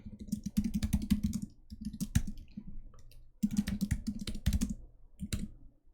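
Computer keyboard typing during a timed coding contest, heard as close, fairly quick bursts of key clicks separated by brief gaps.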